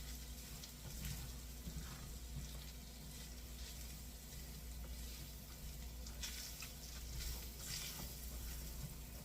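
Sausage gravy being stirred in a pan as it thickens, a faint, soft bubbling sizzle with low kitchen hum and occasional quiet spoon scrapes.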